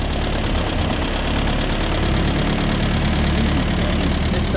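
A cold Land Rover engine runs steadily just after starting, a loud, close, continuous idle with a rough, knocking mechanical rumble and no pauses.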